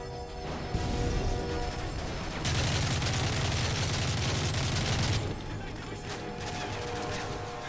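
A grenade blast in Call of Duty Modern Warfare 3 bursts out loud and near, then its roar and crackling debris wash on for several seconds before easing off.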